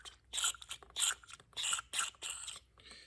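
Short hissing bursts of carburetor cleaner sprayed into the carburetor of an old mini bike left sitting 25 years, about six quick spurts in an uneven rhythm, close and fairly faint with brief silences between.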